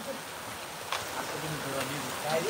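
Steady patter of rain falling outdoors in a village, a soft continuous hiss, with people talking over it.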